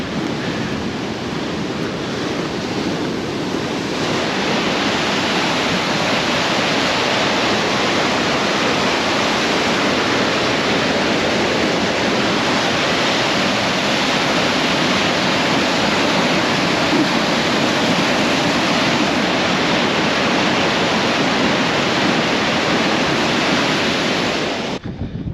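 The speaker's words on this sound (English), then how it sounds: "So that spillway, Bald Eagle Creek" Water rushes over the spillway on Bald Eagle Creek, a loud, dense, unbroken roar that holds steady throughout, close by, with no voices.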